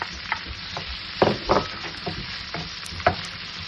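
Chopped onions fry in a pan for a pork vindaloo, with a steady close sizzle broken by several louder scraping stirs of a spoon, no talking.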